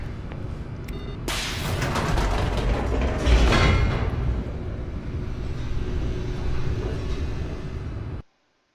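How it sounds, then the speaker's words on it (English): An elevator descends in the video game The Stanley Parable with a loud, steady mechanical rumble and a rushing whoosh that runs for several seconds, then stops abruptly. "And down we go."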